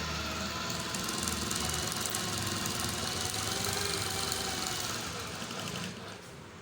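A sewing machine stitches a two-piece collar in a tailoring class, a steady, continuous mechanical whir running close and loud throughout, easing off slightly near the end.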